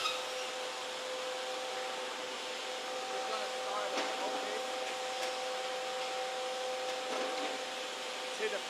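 A CNC machine cutting inlay holes in a guitar fingerboard in an acoustic guitar factory gives a steady, constant whine with a faint tonal hum and occasional light knocks, heard close throughout.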